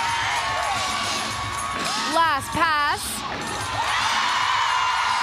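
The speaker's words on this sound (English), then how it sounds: "The crowd is going wild in here for this floor routine." Crowd at a college women's gymnastics meet cheering wildly for a floor routine, loud whoops and shrill yells rising in waves over a constant roar, with a brief spoken voice amid the noise.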